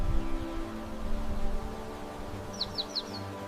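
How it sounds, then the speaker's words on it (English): A bluebird gives a short, faint run of about four quick chirps late in the clip, heard over a steady low background hum. "This is a bluebird."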